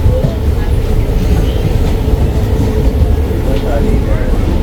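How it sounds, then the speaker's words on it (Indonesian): Steady low rumble and rattle of a moving train carriage, a continuous loud hum with faint clatter throughout. "Suasana dalam keretanya."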